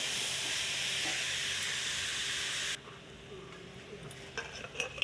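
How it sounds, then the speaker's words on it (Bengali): Cumin and dry chili paste sizzling with turmeric in a hot pan, a loud continuous hiss that cuts off suddenly partway through, leaving quieter scraping and stirring clatter. "শুকনো লঙ্কা জিরে বাটাটা দিয়ে দিয়েছি বন্ধুরা"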